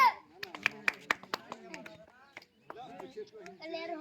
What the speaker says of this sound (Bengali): সবাই জোরে একবার হাততালি মারেন জোরে